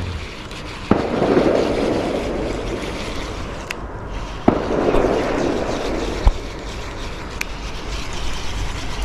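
Outdoors in Lyon, a firework mortar goes off with a few sharp bangs followed by broad whooshing bursts over a steady background rumble, with no talking.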